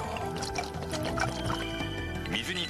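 Water pours and trickles steadily in a 1995 Kumamoto local TV advertisement for pure rice shochu made with special water, a continuous splashing flow with music and voices over it.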